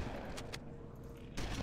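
Shotgun fire in the video game Halo, with dense blasts at the start and another burst near the end, loud and booming with a rumbling tail between shots.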